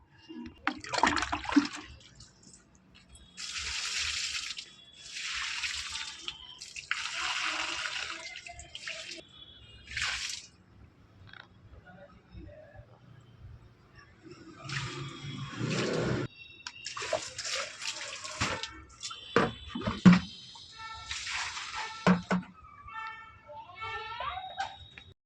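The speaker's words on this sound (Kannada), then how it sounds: "ಗಿಡಕ್ಕೆ ನೀರು ಹಾಕಿ ಬರ್ತೀನಿ ಇವಾಗ." Water splashes in repeated bursts while plants are watered, each gush lasting a few seconds, separated by quiet gaps and scattered drips and knocks.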